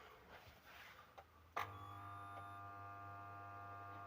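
A reassembled UKC-KS2000D inverter under repair is switched on with a sudden click. A steady, quiet electrical hum follows and continues alone with no talk.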